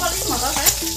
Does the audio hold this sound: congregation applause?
no